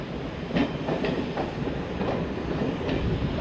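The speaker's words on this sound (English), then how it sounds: "you got a DMU coming back along the corner now." A diesel multiple unit train comes back around a curve at a railway museum, its steady rumble and rhythmic wheel clicks over rail joints filling the clip without speech.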